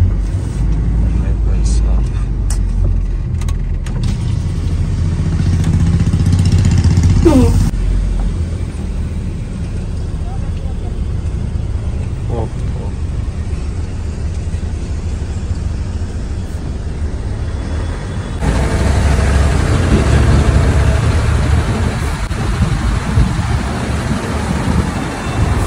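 Traffic jam on a road near Mathura, steady engine rumble and road noise from idling and creeping vehicles, close and loud, with a person talking over it throughout.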